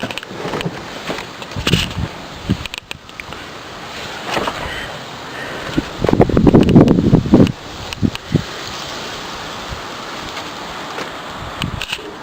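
Gusty wind blows outdoors on an overcast, stormy-looking day, buffeting the microphone in broad rushing swells that peak sharply midway, with no voices.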